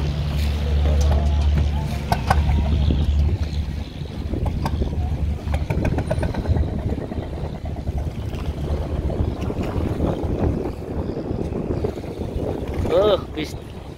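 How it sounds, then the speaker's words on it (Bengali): A small wooden dinghy crossing the river at Sadarghat in Dhaka, with low wind and water rumble and faint creaks and knocks around the boat, and voices murmuring nearby. "তো দেখতে পাচ্ছেন আস্তে আস্তে ডিঙ্গি নৌকা এগিয়ে যাচ্ছে ওই পারের দিকে।"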